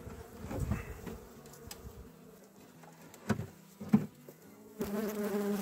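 Honeybees buzz around a hive, intermittent close passes flaring loud against quieter background humming, with a denser swell of buzzing at the end.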